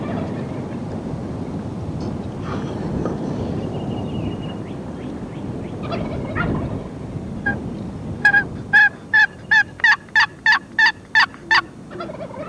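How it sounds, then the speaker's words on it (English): Several wild turkey toms gobble from the roost area, a run of about ten sharp, evenly spaced gobbles ringing out over a steady outdoor background, with scattered earlier calls fainter and farther off. "working several hard gobbling toms that had been roosted the night before"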